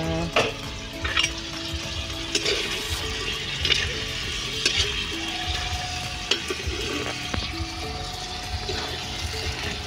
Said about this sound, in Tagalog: kumulo na siya at nagmamantika na